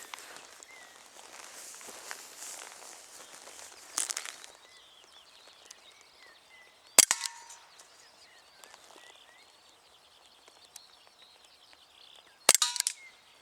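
Three sharp, loud pops from a Walther CP99 Compact CO2 air pistol, 4.5 mm, spaced a few seconds apart, each a crisp snap standing out over quiet outdoor background rustle.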